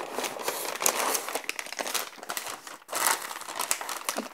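Wrapping paper printed with ginkgo leaves crinkles and rustles up close as it is unwrapped, in uneven bursts of crackling handling noise.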